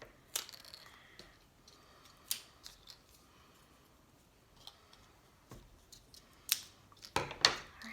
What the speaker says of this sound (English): I'm gonna go ahead and cut them into smaller pieces.